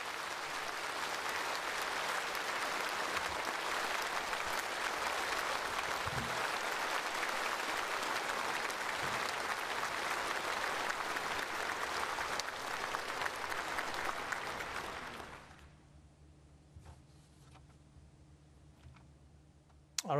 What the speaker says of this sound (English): broad applause for the Chinese Premier Li Qiang, who just delivered the country's annual work report